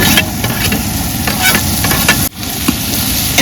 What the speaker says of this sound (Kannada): ಟೊಮೊಟೊನೂ ಸ್ವಲ್ಪ ಚೆನ್ನಾಗಿ ಫ್ರೈ ಮಾಡ್ಕೊಬೇಕು.